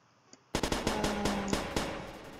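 Automatic gunfire in the Roblox war game Call of Robloxia 5: a quick burst of about eight sharp shots in an uneven rhythm, close and loud, after a brief quiet start and one faint pop.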